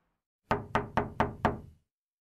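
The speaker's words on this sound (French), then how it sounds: "On frappe à la porte de ma chambre." Five firm knocks on a bedroom door in an even, brisk rhythm, close and resonant with a short wooden ring after each, then silence.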